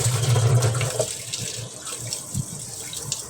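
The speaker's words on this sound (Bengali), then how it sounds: "আমাদের গাছের কাঁঠাল, এটাও আমি ধুয়ে নিচ্ছি।" Home-grown jackfruit rinsed under a running kitchen tap, a steady close splash of water over the fruit that is strongest at the start and then settles into softer trickling and dripping.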